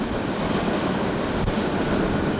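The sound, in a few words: freight train wagon moving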